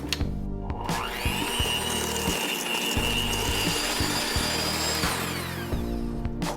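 An electric mixer whipping eggs into whoopie pie batter runs continuously for several seconds, a steady whirring hum with rhythmic thumps, starting and stopping near the ends.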